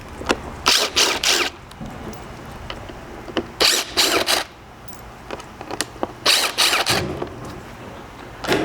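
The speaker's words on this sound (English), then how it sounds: "So for these first four, it's going to be a Torx Plus 30. You can get these removed." Hand ratchet loosening Torx Plus 30 fasteners on a Ford Bronco tailgate during a reinforcement install: three bursts of quick ratcheting clicks, close and fairly loud, separated by short pauses, with no talking.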